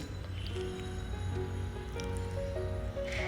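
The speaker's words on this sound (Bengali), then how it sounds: "তারপর আমি নেড়ে চেড়ে একটু ভেজে নিচ্ছি।" Sesame seeds stirred and roasting in a pan, a continuous close scraping, rustling sizzle with soft shifting tones, steady throughout.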